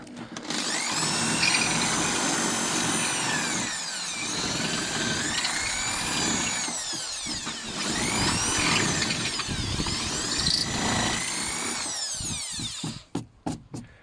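Power drill boring holes for mounting spotlights on a 4x4, a loud, close whining drill that rises and falls in pitch through several runs, ending in a few short clicks.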